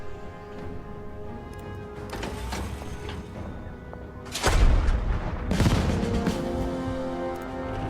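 Mortar shells firing and landing in the tank strategy video game Total Tank Generals, two heavy booming impacts in close succession over a steady hum of game music and battlefield ambience.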